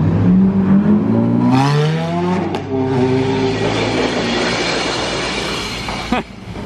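Ferrari 430 accelerating, a loud sweeping engine note rising in pitch as it passes close by and fades off, with broadband road and exhaust noise and no talk.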